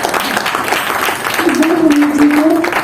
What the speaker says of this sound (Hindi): उनके लिए मैं जोरदार तालियां चाहूंगी।